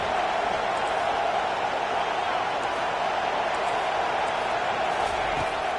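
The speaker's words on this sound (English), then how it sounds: "Listen to this crowd just shaking the girders of this place, trying to help their defense." A packed college football stadium crowd at a USC vs Wisconsin game roars in a dense, unbroken wall of noise that stays loud and steady throughout.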